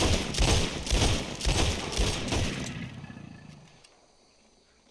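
Rapid bursts of gunfire from newly acquired weapons in Red Dead Redemption 2 crack out in a loud, dense volley for nearly three seconds, then fade into a quiet outdoor ambience.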